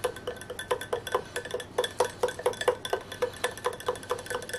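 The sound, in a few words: stirring tomato sauce with anise in a pot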